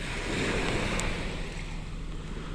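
Seaside waves rolling onto the shore, a steady broad wash of surf mixed with wind buffeting the microphone, constant and fairly loud with no voices.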